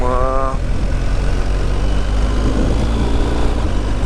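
A large, heavy motorcycle, apparently a BMW GS, rumbles on the road during a tour through Transylvania toward Șugag, its engine drone constant and close amid wind roar.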